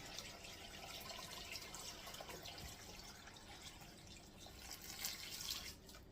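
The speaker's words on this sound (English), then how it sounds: "So I'm going to pour some water on there." Water is poured over chopped vegetables and ham in a jar to make ham broth for canning. A soft, steady splashing and trickling runs throughout, quiet and close.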